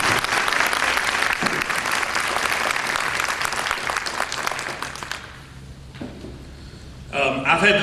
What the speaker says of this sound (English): If you join me in giving the entire group a round of applause.